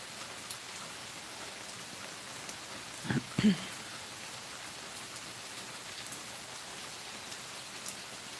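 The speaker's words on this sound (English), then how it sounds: "I like to listen to it rain too." Steady, soft rain patters continuously, with a couple of brief louder knocks partway through; no voices.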